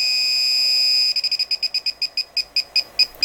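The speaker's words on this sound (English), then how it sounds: "as you're getting closer to the transmitter, the beeps increase or decrease" A television signal direction finder gives a steady electronic tone for about a second, then breaks into a quick, regular series of short beeps that speed up and slow slightly, loud and close with no talking.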